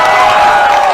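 A crowd at a Prashant Kishor political rally in Bihar breaks into a brief, dense burst of clapping and cheering, loud and close, with no pause through the short moment.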